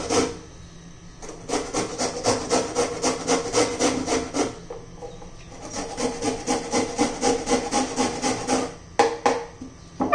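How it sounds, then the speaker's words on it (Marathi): Carrots are grated by hand for a sprouted mung bean dosa, two bursts of quick, even rasping strokes, close and steady, separated by a short pause with a few light knocks. "मी पहिलं गाजर किसून घेते"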